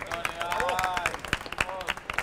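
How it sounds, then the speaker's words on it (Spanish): Small audience at a green jobs entrepreneurship workshop giving a short round of applause for participants, individual claps clearly audible with a few voices chattering over them. "vamos a dar aquí un aplauso a la participación"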